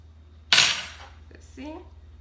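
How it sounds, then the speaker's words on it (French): A knife cuts half a banana into a glass jar, making one crisp clink of metal on glass followed by faint soft handling noises, with a brief voice near the end. "Mon autre demi-banane, je vais la mettre dans mon pot que je coupe."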